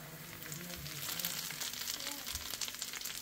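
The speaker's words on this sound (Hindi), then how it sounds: "आज मैंने लगा था बटर का तड़का, आज मैंने बटर का लगाया" Butter tadka sizzling in a pan while cooking haleem, a steady close frying hiss with soft crackle throughout, no voices.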